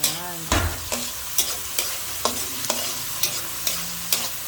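Tomatoes sauté with onion and garlic in a pan for Kapampangan-style mung bean stew, a steady sizzle broken by regular stirring scrapes and taps, close and clear.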